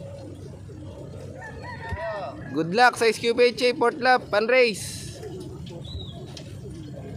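Birds and a rooster crowing in the early morning in Muntinlupa before a fun run, a series of loud rhythmic calls rising over steady chatter and background talk, then fading to scattered faint chirps.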